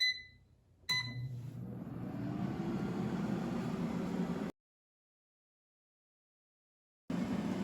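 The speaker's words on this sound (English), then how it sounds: "And now let's put the air fryer basket in the air fryer." An air fryer set to 400°F cooks ribeye steaks, giving a few short beeps before a steady low whirring fan hum that cuts out to silence and then resumes.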